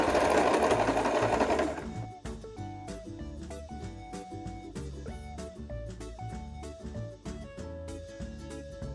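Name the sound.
sewing machine stitching fabric pieces together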